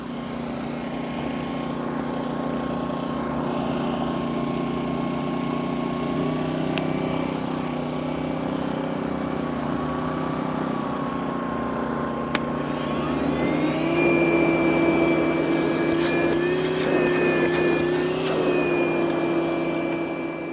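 A steady engine drone from an Erayak portable generator, joined midway by a higher whine as a vacuum cleaner switches on and runs alongside it.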